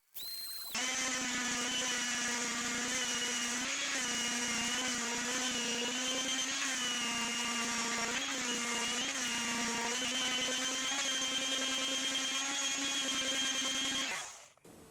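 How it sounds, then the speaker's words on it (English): A steady, loud mechanical whine of a power sander running on narrow lumber shelves for most of the stretch, with a harsh buzzing drone that stops near the end. "I recommend a mechanical sander"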